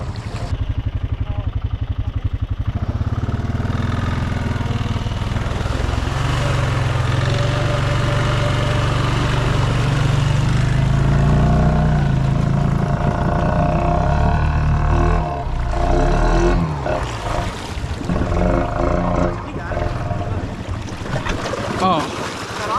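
An outboard engine idles on a boat that has sunk at Silver Lake, a steady low rumble that goes on and on while people talk and shout over it nearby.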